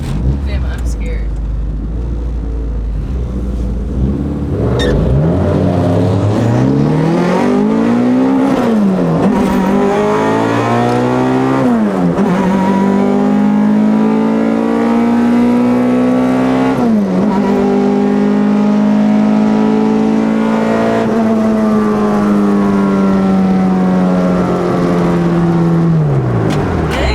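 An all-motor H-swapped Honda EK hatchback launches for a drag racing pass, its engine loud from inside the cabin as it revs high, climbs and drops through repeated gear shifts, and people talk over the roar.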